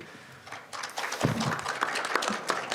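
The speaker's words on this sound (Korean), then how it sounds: "그 길을 꾸준히 걸어오신 심 후보님께 뜨거운 박수를 부탁드립니다" Applause for a presidential candidate at a Kwanhun Club press debate: a quiet room gives way after about a second to a swelling patter of many hands clapping, which continues steadily to the end.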